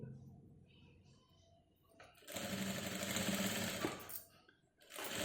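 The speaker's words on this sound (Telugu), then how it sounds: "బ్లౌజ్ సీదా పెట్టి కుడుతున్నాను, పై పార్ట్ నుంచి పై పక్కన స్టిచ్ చేస్తున్నాను." A sewing machine stitches piping onto a blouse neckline, starting with quiet low rumbling, then running loud and close as a steady whirring burst, pausing briefly, then starting up again.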